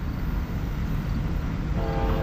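A westbound Norfolk Southern freight train, NS 261 led by two rebuilt AC44C6M locomotives, rolls slowly past at dawn with a steady, close rumble. A horn blast begins near the end.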